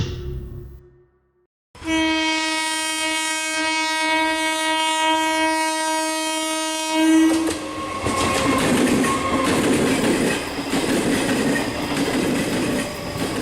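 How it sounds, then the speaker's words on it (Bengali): A loud sustained train horn blares for several seconds, then a superfast express train rumbles past with rattling, clattering wheels, running steadily and close. "ট্রেন ছুটে চলল। সুপারফাস্ট স্টিল এক্সপ্রেস, হাওড়া থেকে খড়গপুর।"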